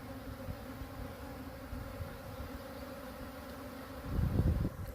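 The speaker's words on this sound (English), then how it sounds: "Look at that swarm" Honeybee swarm in spring, a steady dense buzz of many bees close by, with a louder rumbling burst near the end as the cluster is disturbed.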